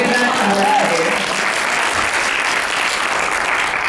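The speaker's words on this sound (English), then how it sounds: "And now, that deserves some applause." A keynote audience at a political conference breaks into sustained, dense applause that holds steady at a loud level from start to finish, with faint voices mixed into the clapping.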